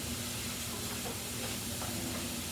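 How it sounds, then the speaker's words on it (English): Mushrooms saute in butter in a pan, giving a steady close sizzle and hiss that holds without a break. "I'm going to saute these mushrooms in that butter."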